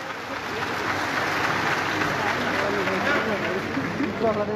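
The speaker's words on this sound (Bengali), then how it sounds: "তাদের সকলের জন্য একটা জোরদার করতালি হয়ে যায়" An audience claps steadily and densely at a swearing-in ceremony for newly elected municipal corporation representatives in Agartala, with speech audible over the applause.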